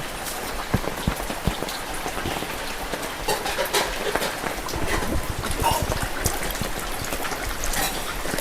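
Rainwater drips and patters steadily off a roof sheet, a dense close splatter with occasional heavier drops, continuous throughout without talk.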